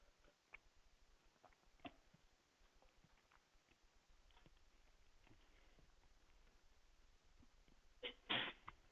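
A single sharp sneeze bursts out near the end, loud against a quiet room with faint ticks and shuffles before it.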